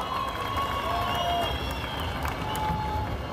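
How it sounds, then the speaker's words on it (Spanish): Audience at a tribute concert applauds and cheers in a steady, continuous wash of clapping, with no single voice rising above it. "Vamos a darle el fuerte aplauso."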